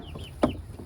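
Backyard chickens giving a single short cluck, close and soft against a quiet outdoor background.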